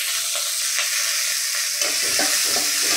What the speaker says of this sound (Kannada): ಇದನ್ನು ಮೆಣಸಿನ್ಕಾಯಿನ ಫಸ್ಟು ಹೆಚ್ಚಿಕೊಂಡು ಹುರ್ಕೋಬೇಕು.